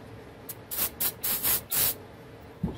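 Cleaner sprayed from a trigger bottle onto a rag in a shop: five quick, close hissing bursts in a rapid row, then a faint knock, with no talking.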